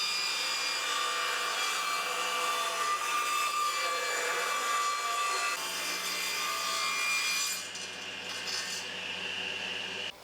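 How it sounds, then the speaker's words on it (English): A table saw cuts along the edge of a piece of pallet wood with a steady, rasping whine that fades near the end as the cut finishes. "I'll put this edge down and then push that through the saw and tidy it up"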